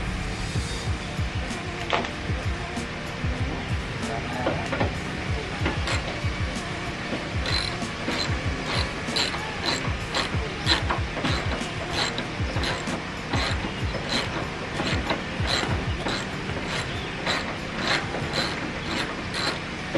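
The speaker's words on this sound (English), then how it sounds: "Only thing I'll have to do is just take the bolt out from the fender" A hand ratchet works a fender bolt loose on a Honda S2000, making a continuous, close run of rapid metallic clicks in repeated strokes for the whole stretch, with no talk.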